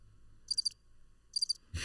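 A person mimics a cricket's chirp with the voice, giving two short bursts of rapid, high trilling pulses separated by a pause, close and fairly quiet, with a soft thump at the end.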